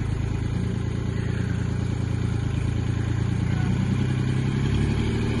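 A tractor engine runs steadily nearby, a low rumbling chug with some clatter and a slight rise in pitch near the end.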